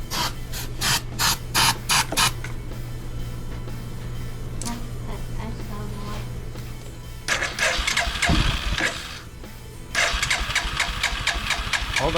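A Hisun 400 ATV engine cranks in several quick starter bursts, catches and idles with a steady mid-pitched rumble, then revs up in loud surges close by, with brief voices in the gaps.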